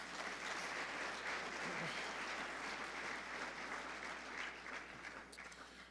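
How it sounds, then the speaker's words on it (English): Audience applause at a Montana FFA Foundation donor recognition dinner, a steady wash of many hands clapping that holds for several seconds and then thins out slightly toward the end. "So let's give all these people a big round of applause."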